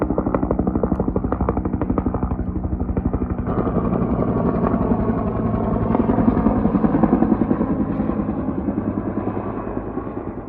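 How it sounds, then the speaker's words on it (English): Steady, loud rotor chop of a firefighting helicopter passing low overhead above a trail, a continuous rapid thudding that swells slightly in the middle before easing off. "These helicopters have been flying over us the whole way down this trail."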